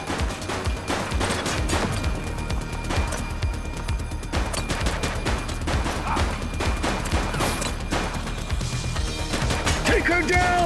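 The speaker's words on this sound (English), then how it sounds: "She's shooting!" Gunfire in a shootout in The Precinct video game: loud, rapid bursts of overlapping shots and automatic fire crackle almost continuously for about ten seconds.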